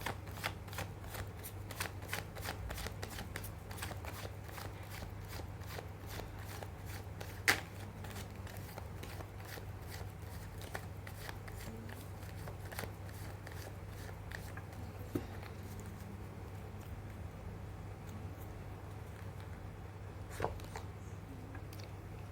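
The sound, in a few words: tarot cards being shuffled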